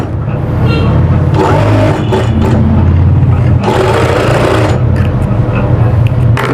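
A sewing machine stitches the side pocket of an Afghani-style kurta, running as a loud, steady close motor whir with a few brief pauses and restarts.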